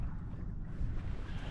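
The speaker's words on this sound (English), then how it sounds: "There, we've hit a little wind." Steady wind rushes and buffets against the microphone on the Apple River during a paddle in a Wenonah Prism canoe, a continuous low roar with no voices.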